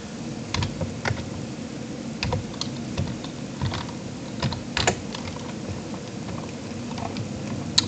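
Keystrokes on a computer keyboard during a game, with irregular clicks and short bursts at close range and no voice present.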